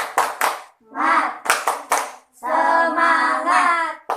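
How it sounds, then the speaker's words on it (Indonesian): A second-grade class performs a rhythmic spirit clap in a patterned sequence of claps, alternating with children's chanted voices, loud and close in the classroom. "Melakukan tepuk semangat."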